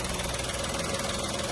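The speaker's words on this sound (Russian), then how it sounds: "двигатель на холодную работает замечательно" A used South Korean car's engine idling from a cold start, a steady, continuous mid-pitched hum with a faint ticking pulse, moderately close and unbroken, with no voices.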